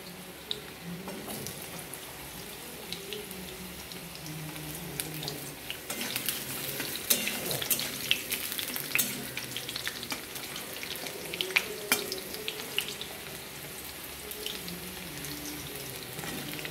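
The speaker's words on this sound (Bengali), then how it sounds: "এবার এটা একটু ভাজতে হবে।" Pointed gourd, potato and carrot frying together in a pan, a steady soft sizzle with occasional scraping stirs and clinks, a faint watery hiss underneath, no talking.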